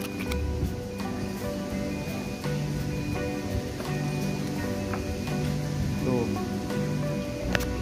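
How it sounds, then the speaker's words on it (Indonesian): Light rain begins to fall outside a house terrace, a steady, soft patter spread under faint background voices and other ambient sounds. "Hujan mulai turun, teman-teman."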